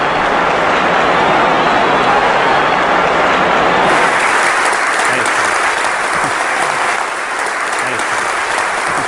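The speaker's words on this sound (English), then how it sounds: "that great round of applause" A large audience gives a loud, sustained round of applause for a speaker being introduced at a motivational talk, a thick unbroken roar of clapping lasting about nine seconds.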